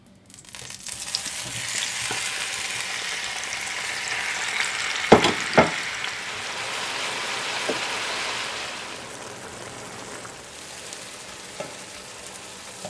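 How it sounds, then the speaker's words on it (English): Tomatoes frying in oil in a pan make a steady hiss and sizzle throughout, with a few sharp utensil clinks near the middle and the sizzle easing slightly toward the end. "So now it's time to fry the tomatoes."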